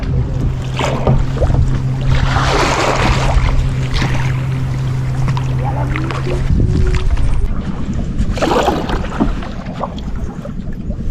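Wind buffets a rowing boat out on open water while fishing, a loud, steady rushing roar with gusty swells and light knocks from the boat, and no voices.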